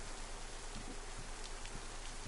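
Heavy rain in the video game DayZ makes a steady, dense hiss with soft scattered patters, fairly faint and continuous with no voices.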